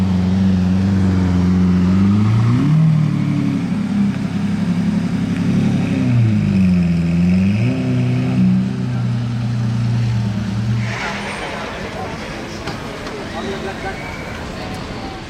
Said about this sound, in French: C'est la nouvelle Aston Vantage, véhicule démo de chez Aston Martin Monaco